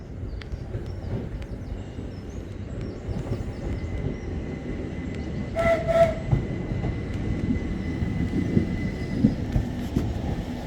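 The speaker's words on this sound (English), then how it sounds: "At the train station, waiting to go up north." Train rumbling at a railway station, a constant low rolling roar of wheels and carriages nearby, with a brief tonal whistle or brake squeal rising midway.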